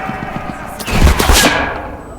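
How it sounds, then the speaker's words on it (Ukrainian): A tank cannon fires in the WWII shooter Enlisted on a Berlin map, one loud, close blast with a heavy boom and a ringing tail that fades over about a second. "Да, танк як завжди. Стрілює."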